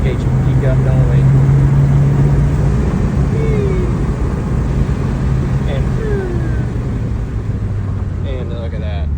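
Turbocharged 2019 Subaru WRX engine pulling hard under boost on a night drive, a loud steady drone of engine and road noise throughout with a rising tone midway and voices talking over it.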